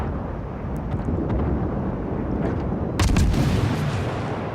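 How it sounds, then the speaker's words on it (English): Warship guns fire at a destroyer in a World of Warships naval battle, a steady wind-like rumble broken by a sharper, louder burst of gunfire near the end, with no talking. "trying to get some shots off into that destroyer"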